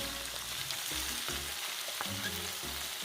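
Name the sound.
stirring pinakbet vegetables frying in a pan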